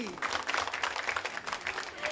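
The audience at a children's pop singing contest in Bali, a quarter-final round, applauds the accompanist with a fairly even clatter of clapping. A voice talks over it and there is a faint sliding tone.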